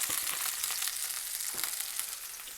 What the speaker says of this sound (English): And then we're going to add our gnocchi in